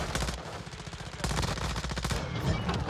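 Rapid gunfire in a first-person shooter video game, loud, close bursts of automatic shots crackling in quick succession throughout, with no talking.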